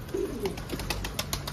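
Pigeons give a short low coo, followed by a run of brief chirpy calls over steady background noise, with no voices.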